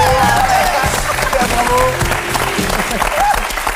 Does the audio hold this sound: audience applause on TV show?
yes